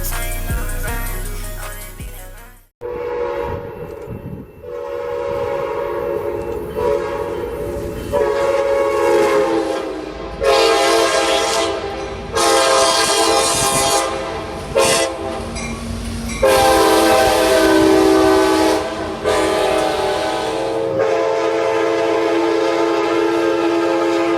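A loud multi-chime Nathan K5LA horn on an F59PHI locomotive blares in a series of long and short blasts, with train rumble and rolling noise underneath.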